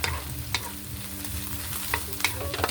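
Carrots stir-fried in a pan for ginisang repolyo, a steady close sizzle with several scraping stirs of the utensil against the pan.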